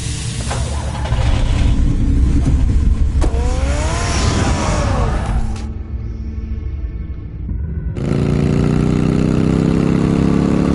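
A car engine in a Batman Telltale game scene rumbles steadily, loud and continuous with a rising whine in the middle, dropping briefly before a fuller idle-like roar returns.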